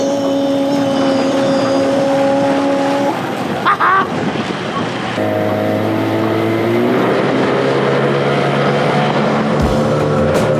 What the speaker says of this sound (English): I finally got to open the taps on Nadiya's new motor, and let me tell you, 30 horsepower really is something.